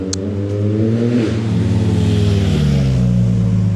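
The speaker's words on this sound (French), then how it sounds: "C'est bruyant une moto quand même." Loud motor engine running steadily close by, with shifting tonal harmonics as the pitch rises and falls through the pass, no talk over it.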